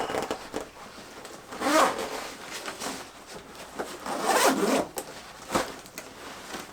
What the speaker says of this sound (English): And then just unzip this.